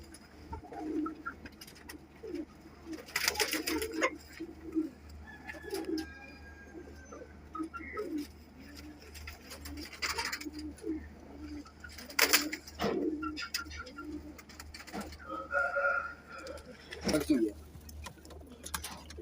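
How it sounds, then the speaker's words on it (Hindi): Flying-breed pigeons coo repeatedly at close range over a steady low hum, with scattered clicks and rustles and a few wing flutters, while someone talks intermittently. "दोस्तों अच्छे उड़ने वाले कबूतर हैं माशाल्लाह।"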